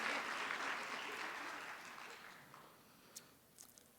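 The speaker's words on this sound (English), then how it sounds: "you don't have to clap" An audience at a Bioneers 2017 talk applauds, the clapping loud at first and then fading away over a few seconds to scattered claps.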